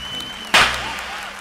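A single sharp hand clap, close and loud, used to sync audio, decaying quickly into quiet room tone.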